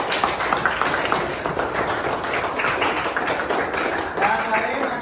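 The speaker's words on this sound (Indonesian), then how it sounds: "Oke, beri aplaus dulu" A classroom group claps together after a presentation, a dense steady patter of hands filling the room at close range for several seconds with some voices mixed in.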